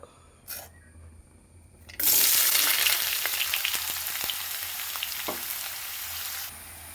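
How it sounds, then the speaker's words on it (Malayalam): Chopped onions drop into hot coconut oil with a sudden loud sizzle that keeps crackling steadily, with a few stirring clinks, then cuts off. "വെളിച്ചെണ്ണ ഒഴിച്ചിട്ടുണ്ട് അതിലേക്ക് സവാള ഇട്ട് വഴറ്റാൻ"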